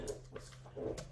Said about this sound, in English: I'm so sorry about the noise my dog is making.